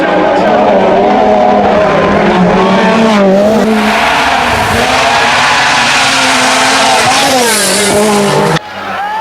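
A Lancia 037 Group B rally car with a supercharged 2-liter four-cylinder engine, loud and close, revving hard with rising and falling pitch and tire squeal, then cutting off sharply near the end.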